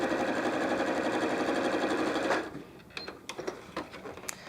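A sewing machine runs steadily while stitching quilt block seams for a disappearing four-patch block, a loud continuous mechanical whir that stops abruptly partway through, followed by a few quieter clicks and handling sounds.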